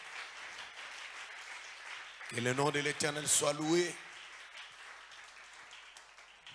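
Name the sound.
congregation applause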